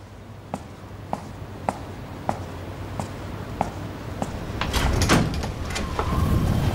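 A door opens indoors at night with a soft latch click, after a run of light evenly spaced ticks, then a louder rustling swell of movement near the end; no talking.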